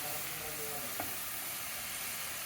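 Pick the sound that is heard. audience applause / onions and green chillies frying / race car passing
onions and green chillies frying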